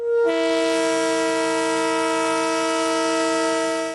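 A train horn on the 378-kilometre Sivas–Samsun railway line in Turkey gives one long, loud, steady blast that holds for several seconds and then cuts off, with no voices.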